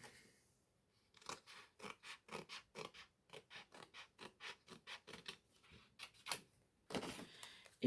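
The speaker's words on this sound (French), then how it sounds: "On va découper." Scissors snip through paper during an art collage, a steady run of about twenty crisp, close cuts in quick rhythm after a quiet start, ending with a louder rustle of paper being handled.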